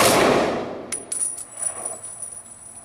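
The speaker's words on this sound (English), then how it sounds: "Ready. Aim. Fire. Aim. Fire. Aim. Fire." A rifle volley of a funeral gun salute starts loud and broad, then decays into metallic clanks and rattles of rifle actions being worked, with ringing high tones lingering outdoors.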